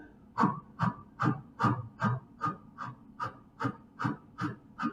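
Rhythmic, forceful breaths pushed out during the Pilates hundred exercise in a seniors' floor class, about a dozen evenly paced puffs, each close and distinct, with no talking.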